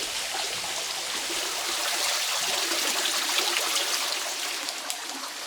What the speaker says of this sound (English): Apparently it's delicious spring water.